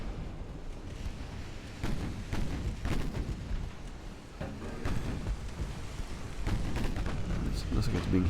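Small-caliber naval gunfire striking a warship in the naval game Ultimate Admiral: Dreadnoughts, a steady run of rumbling impacts and bursts over low battle noise, with someone talking over it.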